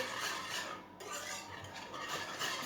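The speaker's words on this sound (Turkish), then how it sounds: "Salebimizi döktük ve karıştırma işlemimize başlıyoruz" A spoon stirring salep powder mixture in a bowl, a soft continuous scraping and swishing at close range with no voices.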